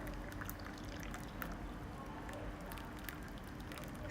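Boiled masala chai with cardamom, cinnamon, black pepper and clove pours through a strainer in a soft continuous liquid rush with faint splashy crackles, close and steady.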